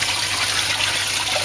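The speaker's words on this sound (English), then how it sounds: "weir falls down lower and allows the water to fall at a faster rate onto the sieve plate" Water falls over an aquarium sump weir onto a sieve plate, a loud, steady, close-up hiss of splashing and rushing water with a faint constant high whine beneath it.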